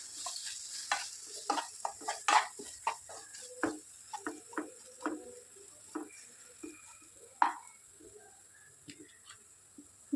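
Mango pieces sauté lightly in oil in a pan, with a quiet, faint sizzle under a run of irregular ticking scrapes and taps from a spoon stirring, fairly close and with no speech.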